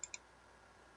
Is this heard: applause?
no